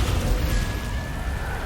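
The Descendo spell lands in Hogwarts Legacy as a loud, dense rumbling boom that fills the short moment, sustained and heavy rather than a sharp crack.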